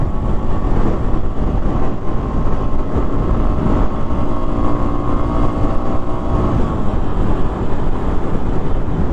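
Strong wind roars and buffets steadily and loudly over a rider on a Honda CT110 motorcycle along the Great Ocean Road, a dense, continuous rush that drowns out nearly everything else.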